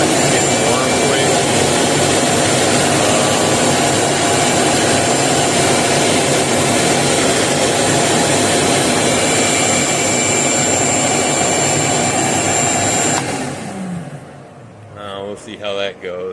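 A Craftsman 16-gallon, 6.5 peak HP wet/dry shop vac motor runs with a loud, steady whine and roar for about thirteen seconds, then cuts off and winds down as a voice begins speaking.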